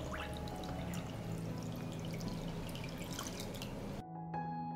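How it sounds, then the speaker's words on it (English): Water pours from a tap into a pot holding jars on a cloth, a steady gushing stream with dripping splashes that cuts off abruptly near the end, leaving a faint trickle and hum. "I pour water into the pot up to the height of the lid."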